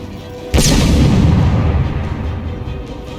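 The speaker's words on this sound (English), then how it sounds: "Grenade!" In the Batman Arkham City video game, a grenade goes off with a sudden heavy boom, followed by a rumbling tail that fades slowly over a few seconds.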